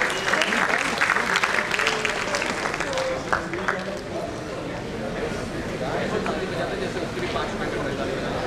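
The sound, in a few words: huge round of applause from conference audience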